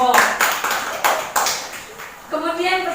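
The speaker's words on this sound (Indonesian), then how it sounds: "Mari kita beri tepuk tangan" A junior high school class claps in a few short bursts of scattered hands, mixed with sharp taps, before a voice speaks at the end.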